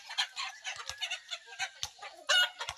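Chickens clucking nearby in a rural yard, a string of short, bright, fairly soft calls in irregular rhythm over faint low thumps, with no talking.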